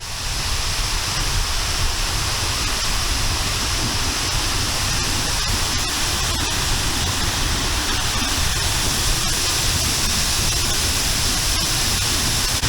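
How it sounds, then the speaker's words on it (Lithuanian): Keila waterfall on the Keila river in Estonia, a steady broadband roar of falling water, loud and unbroken throughout with no voices. "Keilos upė čia tek, Keilos krioklis vadinas"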